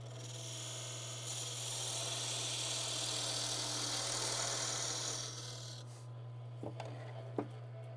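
A lathe tool making a cut on spinning wood during woodturning, a steady close scraping rasp over the lathe's constant low hum, fading after about five seconds to the motor alone and a couple of light knocks.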